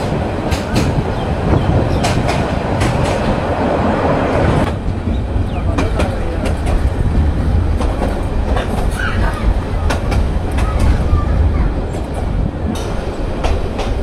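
A Nazirhat local train rolls along the tracks near Chattogram, a loud continuous rumble with rhythmic wheel clatter heard from inside a carriage.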